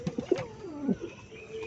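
A pigeon from a newly paired couple that has just laid an egg gives several soft, close coos in quick succession, low and throaty, with no other sounds around it.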